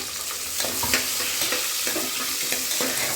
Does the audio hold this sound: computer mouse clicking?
no